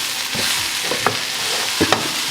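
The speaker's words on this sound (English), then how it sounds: "I'll give this a stir." Salted vegetables stirred in a pan for chicken curry, a steady soft sizzle with a few light scraping knocks of the spoon against the pan.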